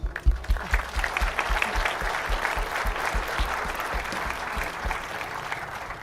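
A townhall audience in Red Deer gives a round of applause, with many hands clapping in a dense, steady patter at moderate distance, lasting several seconds without speech.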